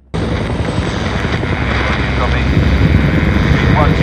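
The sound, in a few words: helicopter in Chernobyl TV episode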